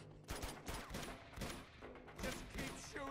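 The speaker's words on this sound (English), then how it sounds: "Just keep shooting!" Rapid gunfire from the video game Uncharted 2 on PS5, a dense run of bursts and shots close up over about three seconds, with clattering action sounds mixed in.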